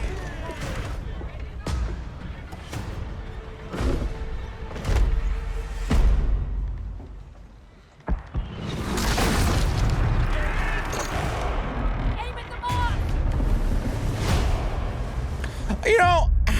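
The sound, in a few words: cannon fire from ships in Skull and Bones video game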